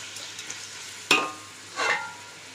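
Tomato and rock salt drop into a pan of ginger and garlic frying for Ambur biryani, giving two short sizzling bursts with a stirring scrape over a faint steady frying hiss.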